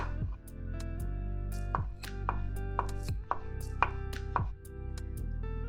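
A knife slices mushrooms on a cutting board in quick, sharp chops, with light background music playing steadily underneath.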